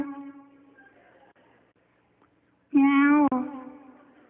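A man imitates a cat's meow: a drawn-out mewing note first, then after a pause a louder, sharper meow that breaks off briefly and trails away.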